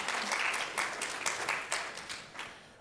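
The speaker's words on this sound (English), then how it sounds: "Please give them a round of applause." Audience applause for a panel at a talk on artificial intelligence, a dense steady clapping that fills the room at a moderate level and then tapers slightly toward the end.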